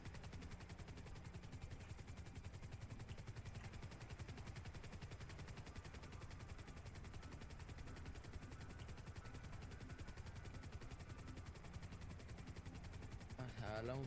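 In a video game, a black military helicopter circles over a town, its fast, even rotor chop steady throughout at a low, distant level.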